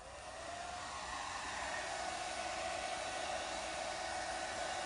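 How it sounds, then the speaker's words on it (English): A hair dryer blows cool air with a steady, loud, even whoosh that holds unchanged throughout, with no talking. "And we're just doing a cool blow dry."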